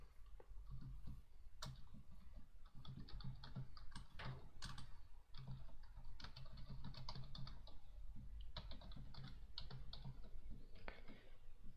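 Java code being typed on a computer keyboard, a steady run of close, crisp key clicks with irregular rhythm and occasional louder taps, continuing throughout without talk.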